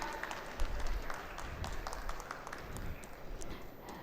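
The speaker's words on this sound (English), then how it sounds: "let's have a huge, huge round of applause" Applause from a conference audience at a nonwovens technology event, a moderate, scattered patter of clapping with a few louder individual claps, heard in a reverberant hall at medium distance.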